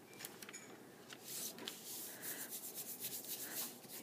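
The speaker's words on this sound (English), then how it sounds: "Got to rub really nice all over to get it to show up on that other side." Folded paper is rubbed by hand to press paint through for a blot butterfly print, giving a soft, repeated scratchy rubbing in short quiet strokes.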